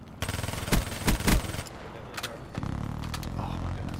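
Automatic gunfire in Call of Duty Black Ops III: loud, close bursts of rapid shots in the first second and a half, followed by scattered distant shots and a rumbling background.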